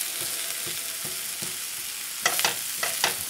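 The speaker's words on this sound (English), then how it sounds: "We're going to brown the potatoes." Potatoes browning in a pan for Lyonnaise potatoes give a steady close sizzle, with soft stirring scrapes and a few sharper clatters toward the end.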